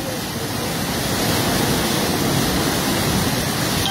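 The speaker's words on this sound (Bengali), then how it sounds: "পানির বেগ কমছেই না, বৃষ্টির কারণে, অতিরিক্ত বৃষ্টির কারণে পানি" Fast floodwater swollen by heavy rain in Habiganj rushes in a dense, constant roar, loud and close, steady without pause across the whole stretch.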